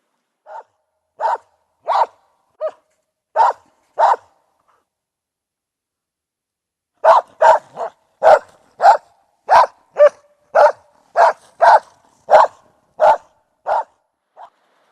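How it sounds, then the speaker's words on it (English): A dog on an off-grid Alaska homestead barks in two bursts, six sharp barks, a pause of a few seconds, then a faster run of about a dozen loud, close barks with no other sound. "My dog just decided to show up."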